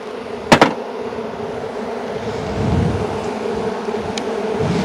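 A honeybee colony hums steadily during a hive inspection while it prepares to swarm, a dense close buzz that holds for the whole stretch, with a brief sharp knock near the start.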